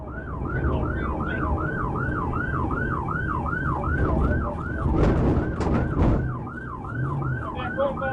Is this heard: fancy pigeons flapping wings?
no